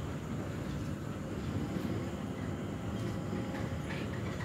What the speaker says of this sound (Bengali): আমি স্কাই ট্রেনে উঠেছি।